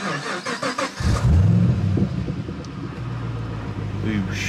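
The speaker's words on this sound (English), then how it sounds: "to start the car, we just got to press here." A Holden HSV GTS engine cranks and catches via push-button start, then settles into a rumbling idle close by; a brief clatter precedes the start.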